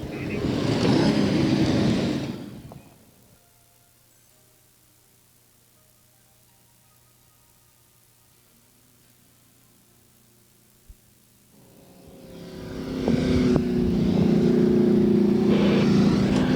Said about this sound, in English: round 2 qualifying, and cars now out on the track